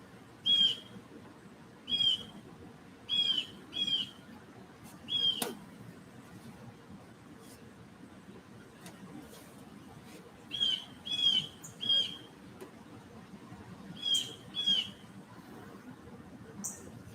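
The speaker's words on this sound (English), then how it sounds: "There's the birds." Outdoor birdsong on a fine day: short repeated chirping phrases come in clusters of two or three, moderately near, separated by quiet ambient background, with no voices.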